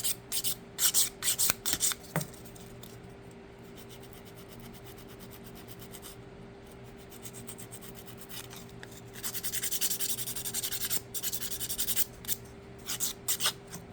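Fingernails being buffed and smoothed with a nail file while doing butterfly nail art, a dry rasping rub in short repeated bursts, close and fairly quiet, with a steady low hum underneath and no talking.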